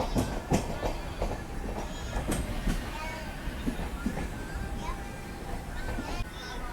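Rapti Sagar Express standing at Khalilabad railway station in Sant Kabir Nagar, Uttar Pradesh, with light drizzle: steady platform and train rumble with scattered clanks and bustle, under a voice talking throughout.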